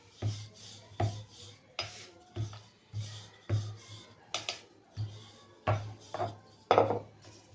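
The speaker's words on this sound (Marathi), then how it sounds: "तर या साईडची लाटून घ्यायची आहे पोळी" Beetroot puri dough being rolled out on a board with a rolling pin, a steady series of soft, rhythmic rubbing strokes roughly once per second, close and fairly quiet.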